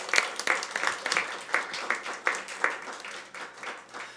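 A church youth congregation claps to welcome a brother stepping up to share his story and a worship song: a short burst of steady, moderately close applause from a modest group, rhythmic and unaccompanied.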